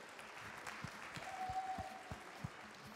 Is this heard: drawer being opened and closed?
no